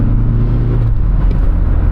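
A car engine hums with a steady, close, low rumble while driving, with no talk over it.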